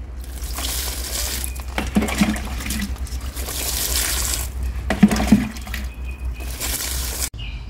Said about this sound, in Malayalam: ഇപ്പോൾ നമ്മൾ നട്ടതുകൊണ്ട് ഒരു രണ്ട് കപ്പ് വെള്ളവും കൂടി ഒഴിച്ചു കൊടുത്തേക്കുക